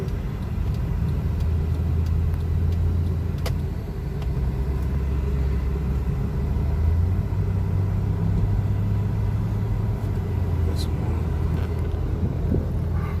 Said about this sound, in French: si on baisse la vitre, vous aurez un petit beau bruit de moteur